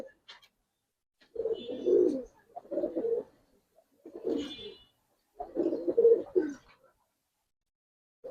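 Pigeons at a sale coo in four separate bouts of low, rolling burbles, each a second or so long with short pauses between, close by and with no talking.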